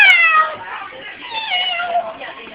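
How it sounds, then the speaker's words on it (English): A cat gives a drawn-out meow that slides downward, followed by a softer second meow, close and clear. "Summon, go meow."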